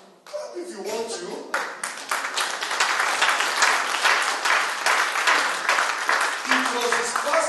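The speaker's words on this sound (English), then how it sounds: "Clap if you want to." A church congregation breaks into loud, sustained applause after a brief opening, the dense clapping building and holding steady while voices mix in underneath.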